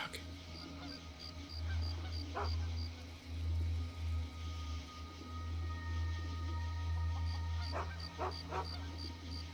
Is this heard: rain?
no